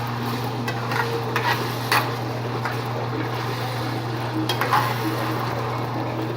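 Jamaican festival dumplings fry in hot oil, giving a steady, close sizzling hiss with a few brief crackling bursts throughout and no talking.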